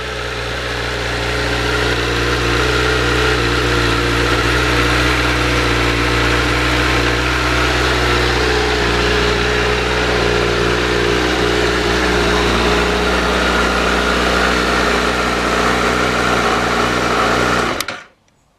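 A Honda CBR1000RR sport motorcycle engine idles steadily and loudly up close with a fast, even mechanical patter, then cuts off abruptly at the end.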